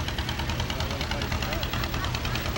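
An M tractor, one of the early vertical-engine models built in Dubuque, Iowa, rolls past in a parade with a steady, close engine drone and faint knocking, while voices talk over it.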